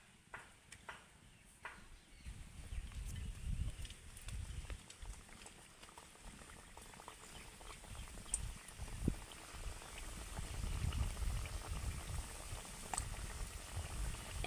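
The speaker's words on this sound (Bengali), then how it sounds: "নিমকিগুলোকে ভাজার জন্য সাদা তেল আমি গরম করে নিয়েছি, এবার ওই তেলের মধ্যে একে একে আমি ভেজে নেব।" Nimki snacks deep-fry in hot white oil, a continuous bubbling sizzle heard close up that grows a little busier as it goes on.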